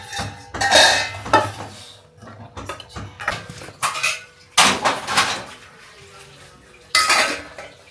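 Used dinner dishes are handled and emptied at home, with close, sharp clatters of plates and cutlery coming in irregular bursts separated by brief quiet gaps.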